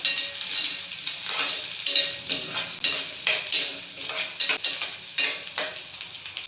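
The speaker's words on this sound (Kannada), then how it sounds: "ಚೆನ್ನಾಗಿ ಫ್ರೈ ಮಾಡ್ಕೋಬೇಕು" Onions and curry leaves fry in a pan for tamarind sambar, a steady loud sizzle with repeated stirring scrapes throughout, no voices.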